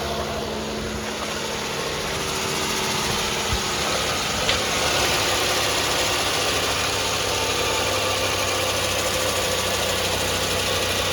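A Nissan Pathfinder engine idles steadily at a low, even hum with a faint knocking rhythm, quiet and unchanging throughout, with no voices.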